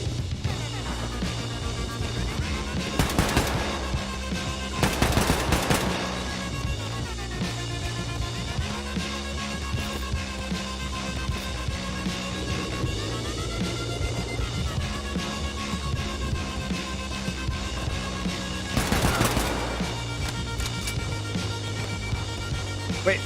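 Gunfire in Wolfenstein 2: The New Colossus comes as a few sharp bursts spread across a continuous bed of game music and ambience, with no talk.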